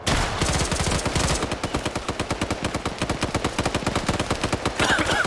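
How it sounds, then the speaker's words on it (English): Sustained machine gun suppressive fire in a first-person shooter video game, loud rapid bursts with evenly spaced shots running almost continuously, close and alone. "Now taking suppressive fire."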